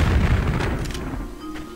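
A loud, booming grenade launcher explosion in Tomb Raider 3 that dominates the start, its low rumble slowly fading over about two seconds.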